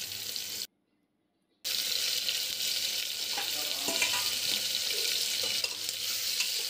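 Onions frying with mace in a pan for a mutton curry, a steady close sizzle with stirring scrapes, briefly cut to silence near the start.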